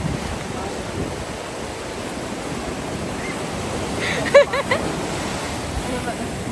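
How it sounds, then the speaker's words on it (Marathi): Steady roar of big ocean waves washing in on a beach, broad and continuous, with a brief voice calling out over it partway through. "लाटा खूप मोठ्या आहेत"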